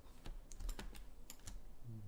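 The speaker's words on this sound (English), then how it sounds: "I'll hit B on the keyboard again." Several separate computer keyboard key presses, sparse clicks tapped at an irregular pace, quiet and close, with no talking.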